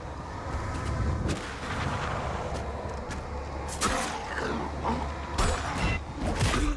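Gunfire volleys in the video game Valor Mortis: sharp, loud reports crack out at irregular intervals over a dense, rumbling battle background, with several shots clustered close together.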